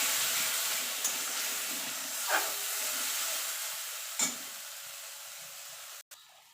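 Masala paste hitting a hot pan for paneer butter masala gives a steady, close hiss of steam and sizzle, broken by a couple of soft clunks before it cuts off abruptly near the end.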